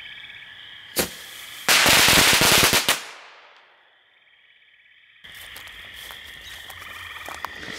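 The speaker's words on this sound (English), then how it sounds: "Next up is the Boozy cracker." A Boozy cracker firework goes off outdoors with one sharp pop, then a second or so of loud rapid crackling bursts that fade into quiet, while insects or frogs chirp steadily in the background.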